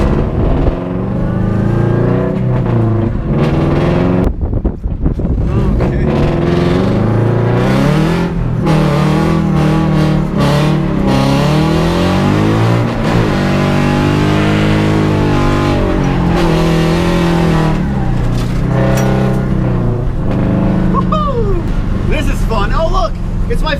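A Nissan 240 drifts along a flooded, debris-strewn street after Hurricane Irma, its engine revving hard and rising and falling in long sweeps through the gears, loud and near throughout.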